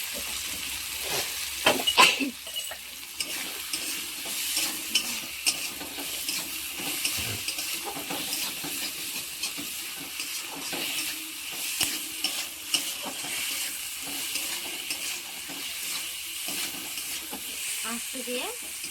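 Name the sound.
food being sautéed in a pan after adding salt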